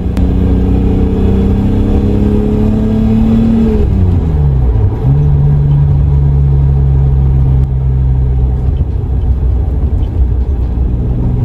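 A BMW E34 M5 engine with 400,000 km drones steadily, its pitch sliding down as gears change, then settling into a loud, even hum as the car keeps moving.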